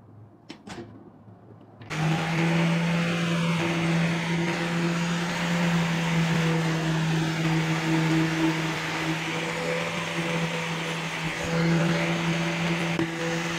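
An angle grinder fitted with a bronze wire wheel cup spins up after a couple of faint knocks and then runs at a steady, loud whine with a humming drone, removing rust with brief scratchy textures on top and no speech.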